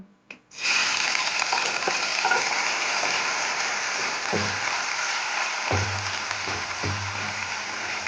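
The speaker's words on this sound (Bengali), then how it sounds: "চিংড়ি মাছগুলো আমি হালকাভাবে ফ্রাই করে নেব" Prawns shallow fry in mustard oil in a wok, a loud steady sizzle that starts abruptly and hisses continuously nearby, with occasional soft stirring scrapes underneath.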